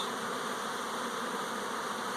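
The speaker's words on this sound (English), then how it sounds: "See all those bees going in and out of that entrance?" A steady, dense buzzing of many honeybees flying at a hive entrance on orientation flights, close by, continuous and even throughout with no pauses.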